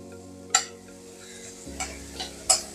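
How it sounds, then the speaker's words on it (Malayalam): Chicken and mushrooms shallow frying in a pan for a chicken pizza, a steady low sizzle with a few sharp stirring clinks and scrapes at intervals, close and moderately loud. "ഇത് കുറച്ച് കൂണാണ് കേട്ടോ, അതും കൂടി ചിക്കൻ്റെ കൂടെ ഇട്ടിട്ട് ഒന്ന് ഷാലോ ഫ്രൈ ചെയ്തെടുക്കാണ്."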